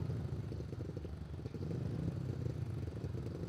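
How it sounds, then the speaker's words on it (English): A speedway motorcycle idles at a Canterbury championship meeting, giving a steady, continuous low engine drone with a rough, pulsing texture that holds at an even level throughout. "idling the bike"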